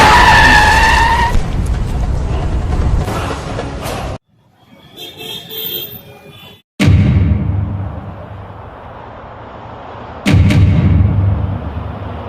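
A car lunges at a man and skids hard: loud tyre screech and engine roar up front, a sudden cut to a quieter stretch, then another burst of skidding and revving close by.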